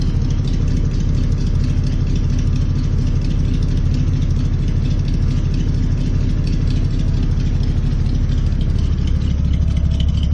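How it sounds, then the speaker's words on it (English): Old Studebaker car engine idling with a new exhaust, a steady low rumbling burble that stays constant and close throughout, with no talking. "It's nice to be able to sit in the car and hear the exhaust behind me instead of in front of me."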